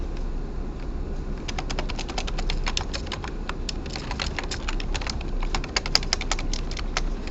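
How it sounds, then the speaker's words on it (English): Rapid, dense keystrokes clatter on a computer keyboard, a steady stream of clicks running almost unbroken from start to finish, close and fairly loud over a low background hum. "I know that I do type very quickly"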